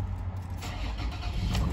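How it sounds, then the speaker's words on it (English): A 2021 Toyota 4Runner with about 20,900 miles starts up, its engine catching and settling into a steady low idle rumble close by, with no talking. "Car starts right up."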